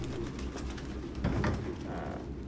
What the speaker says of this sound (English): Dude, what is with all the pigeons?